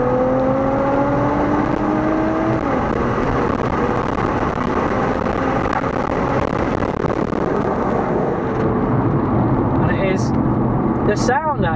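An Infiniti Q60S turbo engine revs hard under full acceleration from about 4,000 RPM, pitch climbing steadily through a gear then dropping at a shift, with wind and road roar underneath and a brief chirp near the end.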